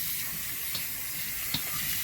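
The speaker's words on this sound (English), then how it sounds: "So I usually like to put a lot of hot water." Hot water pours steadily from a kitchen tap while a boneless Thanksgiving turkey is being prepared, a constant broadband hiss broken by a couple of small knocks.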